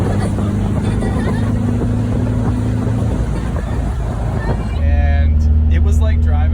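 A 1965 Volkswagen 21-window bus drives along with a steady engine hum and road noise, the tone shifting near the end as the engine note changes; voices chatter faintly underneath.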